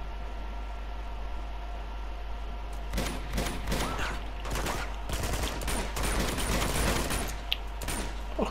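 Rapid gunfire in the video game Uncharted 2: Among Thieves, with dense bursts of shots over a steady noisy background and a low hum, growing busier in the second half.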